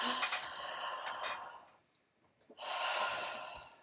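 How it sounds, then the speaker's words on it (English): A person breathes through an open mouth, close by, drawing one long airy inhale, pausing briefly, then letting out a second heavy breath, with no words spoken. "So if I breathe like this"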